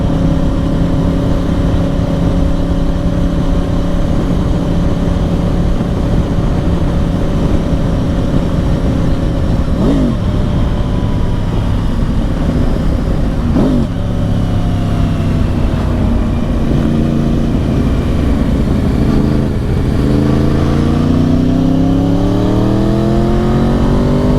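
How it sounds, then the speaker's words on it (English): A cross-plane Yamaha R1 motorcycle engine with a quickshifter roars steadily throughout while riding, with its pitch rising and falling as the rider shifts through gears, loud and close. "enjoy the sound of the cross-plane R1"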